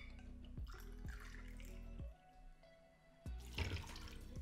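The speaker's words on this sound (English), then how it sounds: "we'll be pouring 2 parts of vodka" Vodka poured over ice in a cocktail glass for a Black Russian, with a liquid pour running over a few short clinks of ice, up close, followed by a quieter stretch and a final splashy burst.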